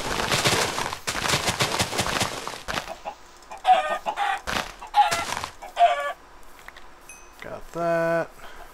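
A Minecraft chicken clucks in short, fairly loud bursts in the middle of the clip, with dense broadband game noise and clattering hits at the start and a final tonal game sound.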